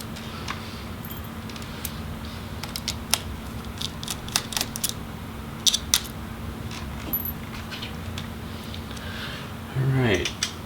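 Small 1.5 Phillips screwdriver backing out screws from the back edge of a Razer Blade laptop motherboard; faint scattered clicks and scrapes over a low steady hum, with a brief louder rattle near the end.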